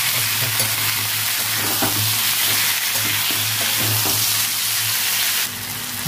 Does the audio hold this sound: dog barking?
no